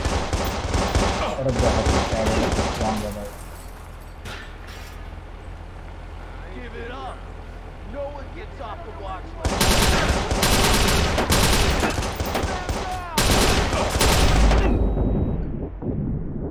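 Gunfire from a weapon in the video game Watch Dogs: loud, dense bursts of rapid shots at the start and again near the end, with a quieter stretch between, while someone talks over the action.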